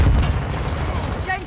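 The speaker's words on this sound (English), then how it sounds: "Throwing a stunner." A stun grenade detonates in Call of Duty: Modern Warfare II with a loud, heavy boom at the start, followed by a rumbling tail and scattered battle noise, with a voice talking over it.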